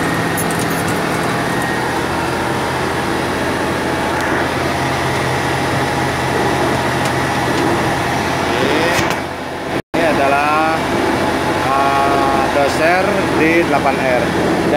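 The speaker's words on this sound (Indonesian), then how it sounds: "Kita pakai AC dulu ya, supaya tidak terlalu panas." Air conditioning runs steadily in the cab of a Caterpillar D8R dozer with its engine on. The blower is a constant close whoosh with a brief dip in the middle, and someone talks over it.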